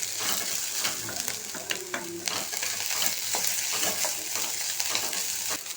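Sautéed onion and grated coconut being stirred in a hot pan, a loud steady sizzle with frequent close scraping and clinking strokes from the spoon against the metal.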